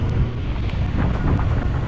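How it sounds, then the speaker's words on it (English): Strong wind buffets the microphone at a sand dune used for paragliding, a steady loud broadband roar with low rumble and no letup, no voices. "The wind is quite strong, but perfect for soaring pretty low."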